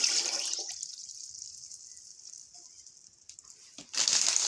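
A steady rush of water pours continuously into a pot, close up, thinning out briefly before surging louder again near the end; cold water added to sugar for elderflower kvass.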